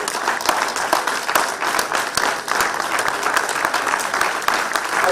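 A conference audience at a national meeting on farmer-herder relations in Nigeria applauds loudly and steadily throughout, a dense wash of many hands clapping with no pause.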